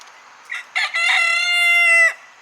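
A pet rooster with an unusual, untraditional voice crows once up close, starting with a couple of short hiccuping notes and then holding one long, loud, sustained cry before breaking off.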